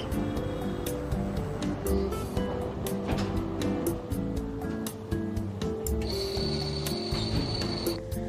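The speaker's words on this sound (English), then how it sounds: "Now the harness is attached to the machine that applies the traction force." A cervical traction machine applying traction force to a neck harness, giving a steady mechanical whir with repeated ratcheting clicks and a faint high tone late on, close and continuous throughout.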